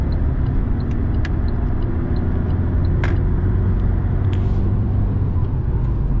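A rented car is driving along with a steady, continuous engine and road rumble from inside the vehicle, and a few faint clicks and ticks rise above the drone.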